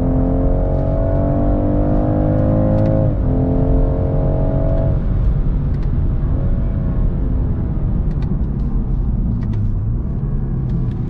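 Inside a 2022 BMW 230i coupe, its B58 turbocharged inline-six drones loudly and continuously, its pitch rising under revs and stepping up with each downshift.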